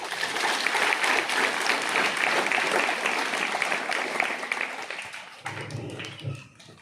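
A church congregation applauds steadily with dense, sustained clapping that thins out and fades near the end.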